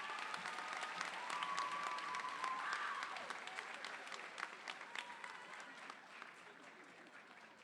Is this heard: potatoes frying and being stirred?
no